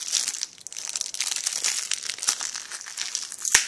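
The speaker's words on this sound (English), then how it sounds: "Now let's get to the ripping part." Crinkly plastic Beyblade toy packaging is ripped and crumpled up close, with continuous rustling and tearing and a few sharp snaps, loud and alone without talk.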